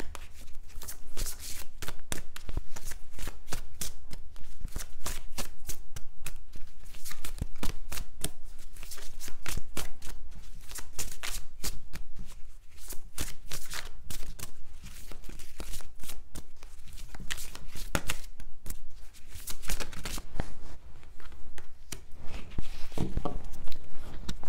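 Tarot cards are shuffled by hand in a continuous, rapid patter of crisp flicks and slaps, close and fairly quiet, for over twenty seconds.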